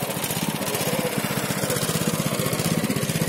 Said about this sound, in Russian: и мотоблок своим ходом заехал в гараж.